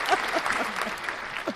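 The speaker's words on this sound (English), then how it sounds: "But here's your applause." A brief stretch of applause, with steady clapping and faint crowd noise mixed with voices throughout.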